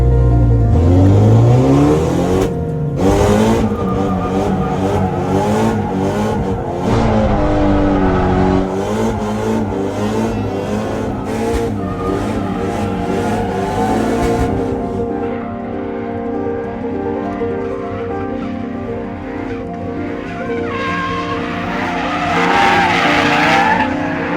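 A drift car revs hard and skids through a run, a loud engine roar climbing and falling with long tire squeals and screeching slides, close and sustained throughout.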